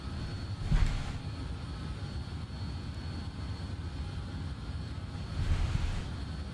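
The jet engines of a BAe146 airliner in Microsoft Flight Simulator accelerating during a climb, a steady loud broadband roar with deep low rumble and slight swells.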